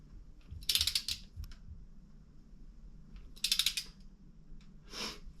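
A torque wrench ratchets in short clicking bursts while engine bolts are tightened in steps during LS engine assembly, three separate runs of close metallic clicks with quiet gaps between them.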